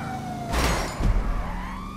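A police car siren wails in the GTA Online video game, a loud rising and falling tone chasing the player and swelling in the middle, with engine and street noise beneath.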